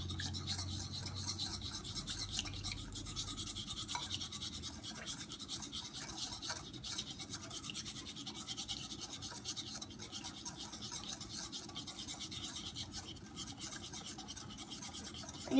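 A whisk stirs peanut butter in a bowl, making a soft, continuous scraping and brushing close by, quiet and steady throughout with no talking.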